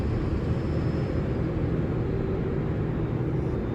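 A 2006 Dodge Ram Mega Cab with a Cummins turbo diesel runs steadily, giving a constant low engine rumble and drone that stays even throughout, with no talk.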